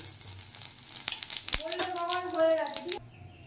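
Bay leaves and whole cumin seeds crackle and sizzle in hot oil in a kadai, a steady close fry with a sharp tap midway and a brief tonal, voice-like sound over it.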